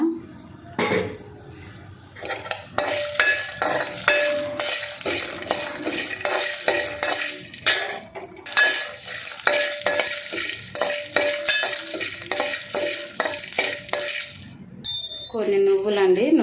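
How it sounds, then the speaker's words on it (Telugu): Coriander seeds and a little cumin fry in a pan over a medium flame, giving a continuous close sizzle broken by repeated scraping stirs, with someone talking over it. "మీడియం ఫ్లేమ్లో వేయించుకోవాలండి మాడని పట్టు ధనియాలు కొంచెం జీలకర్ర"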